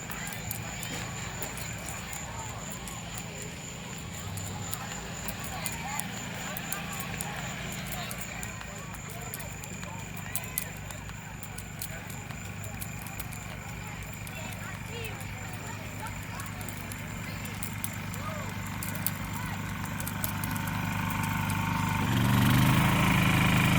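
A Honda EU2000 generator runs at a concession stand behind a fence, a steady engine hum that grows louder near the end as it is approached, under background clatter and voices.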